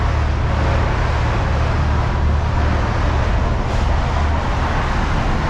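Steady broadband rumble of construction and maintenance work beneath a road, heard from a canal towpath under a low bridge in Birmingham; a dense, continuous low-heavy roar with traffic-like wash, no distinct impacts, filling the whole stretch.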